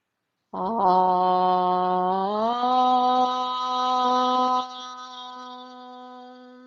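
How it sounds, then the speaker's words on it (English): A single voice sustains a long, steady chanted aum during a pranayama breathing practice, starting abruptly, rising slightly in pitch, then fading into a softer held hum. "when you make this sound of aum"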